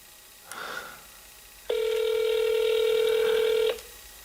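A telephone call being placed: a brief burst of noise, then a steady two-second ringback tone that stops abruptly, with no voice and a quiet background.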